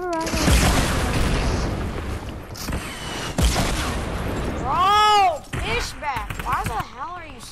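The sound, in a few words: rocket launcher explosion in a video game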